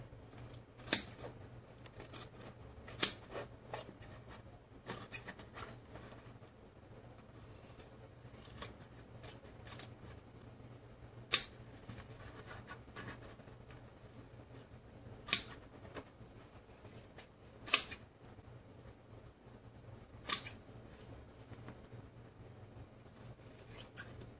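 Scissors snip intermittently around a fabric coaster, sharp isolated cuts spaced a few seconds apart with quiet rustling between, close and otherwise calm.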